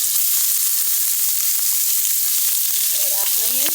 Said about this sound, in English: I'm going to add that to the pan. Let that melt down. And with that, I'm going to add the onions.